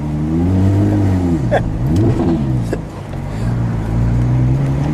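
A grey 2011 Porsche 911 997.2 GT3 RS with a 3.8-liter engine accelerates hard, its revs climbing through gears in loud rising sweeps with a brief dip and swell, heard from inside the car.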